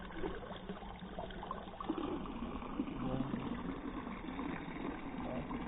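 Water running and trickling from a public fountain in Scuol, a steady, soft outdoor splash and babble heard throughout at low level, with faint voices in the background.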